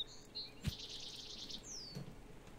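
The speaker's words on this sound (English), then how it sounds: "There's a bird right here." Bird in the survival game The Forest giving a few faint, high chirps and a thin descending whistle against quiet ambient background, with a soft thump partway through.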